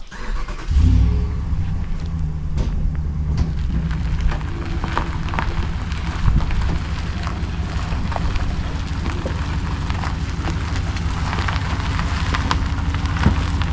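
A truck engine idles and rumbles steadily at close range while the truck backs up, with a rough low drone, a slight surge early on and faint rattles throughout.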